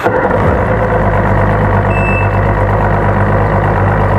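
A 2007 Evinrude E-TEC 225HP outboard engine idling after a restart, a close, steady low droning rumble with a brief high beep partway through, no talking.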